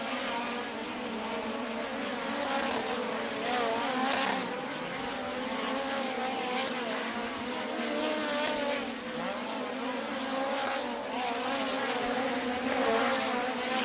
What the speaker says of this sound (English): Field will begin to increase RPMs